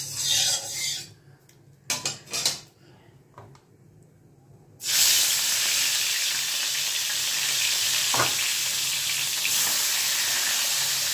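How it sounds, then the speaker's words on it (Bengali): Fish coated in salt and turmeric hits hot oil and sizzles loudly and steadily. Brief handling noises come first, then the frying starts abruptly and continues with a bright, constant hiss. "মাছটাকে আমি ভেজে নেব।"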